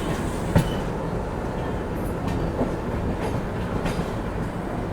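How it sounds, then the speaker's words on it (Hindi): A WDG3 ALCO diesel locomotive shunts a generator car near Nagpur Junction, giving a continuous close rumble of rolling stock with a sharp clank early on and faint squeals of the wheels. "जनरेटर कार को लेके घूम रहा है भाई, ये शंटिंग कर रहे हैं।"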